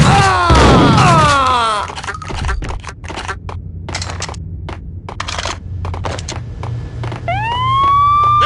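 Police sirens wail in the Western action game Evil West, loud and rising at the start, then a second siren sweep near the end with thuds and rumbling game sounds between.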